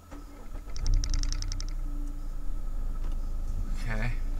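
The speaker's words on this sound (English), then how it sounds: "So I'm going to go ahead and start it up." A 2016 Mazda CX-5 Sport starts by push button: a short electronic chime series, then a brief cranking whir and the engine catching into a steady idle, nearby and under a voice.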